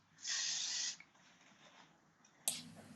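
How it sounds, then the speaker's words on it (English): Glamorama Style Masters shine spray is sprayed onto hair in one long, loud, forceful hiss lasting under a second, followed by a quieter shorter spray burst near the end. "And I'm just using a shine spray at the moment."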